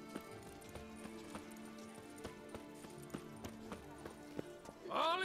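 Roach the horse gallops in The Witcher 3, a steady rhythmic clip-clop of hooves over soft game music, closing with a louder burst that may be a neigh.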